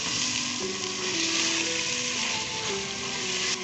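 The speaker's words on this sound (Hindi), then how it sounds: "अब इसे हम तब तक फ्राई करेंगे जब तक ये ऑयल ना छोड़ दे।" Mutton keema sizzling and frying in hot oil in a pan, a loud, steady hiss with faint stirring scrapes, no voices.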